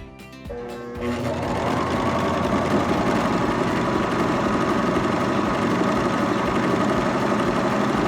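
Baby Lock Vibrant sewing machine stitching rolled edge pintucks in fabric: a few slow stitches, then a fast, steady, close mechanical whir that runs loud and unbroken to the end.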